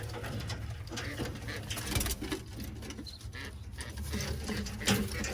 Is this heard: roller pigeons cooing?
yes